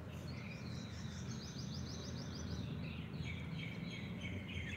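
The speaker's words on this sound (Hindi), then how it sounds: "पक्षियों के मधुर कलरव को सुनिए" Birds chirp and twitter outdoors in the early morning on an open grassy spot, repeated quick trills carrying at a moderate distance over a steady low background hum, with no one talking.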